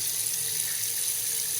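Water runs steadily from a chrome bathroom faucet into the sink, a continuous close hiss and splash with no talking.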